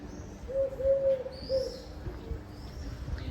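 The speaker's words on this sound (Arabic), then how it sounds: "الحمام هنا يدور أكثر من القطاطس." Pigeons coo softly outdoors in a public garden spot in Toulon, France, a few low repeated calls over faint ambient background.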